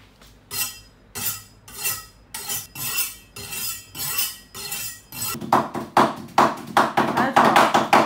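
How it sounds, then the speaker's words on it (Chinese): A cleaver chops meat on a board in steady, heavy strikes about twice a second. The blows speed up into faster, louder chopping near the end, and they sound close with no talk over them. "你剁肉就剁肉嘛"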